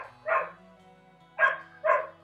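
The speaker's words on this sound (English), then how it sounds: "it's just a dog just going off" A dog barks in three separate bursts, one short bark and then a pair close together, at moderate distance over a low steady hum, with no talking.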